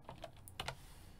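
A few quick keystrokes on a Dell Inspiron 3511 laptop keyboard as a folder name is typed during a fresh Windows 11 setup, soft close clicks in a brief burst, then quiet hum.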